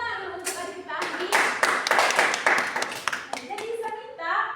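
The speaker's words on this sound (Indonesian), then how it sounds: "tepuk tangan dulu untuk adik kita Andi." A classroom of students claps for a classmate in a lesson, a short burst of brisk, uneven hand clapping that swells and fades over a few seconds, with children's voices mixed in.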